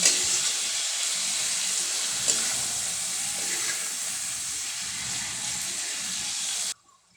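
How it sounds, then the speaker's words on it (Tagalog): Pork frying in a pan for adobong baboy, a steady close hiss of sizzling oil that runs unbroken for several seconds before cutting off abruptly at the end. "Medyo piprituhin ko nga po pala dyan yung baboy."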